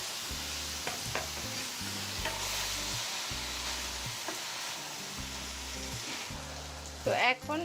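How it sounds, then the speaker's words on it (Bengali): Spinach and shrimp are stirred together in a pan for a spinach curry, a soft sizzle running throughout with recurring scraping stir strokes and a sharper clatter near the end. "এখন এই পালং শাকটাকে আমি চিংড়ি মাছের সাথে ভালো করে মিক্স করে নিচ্ছি"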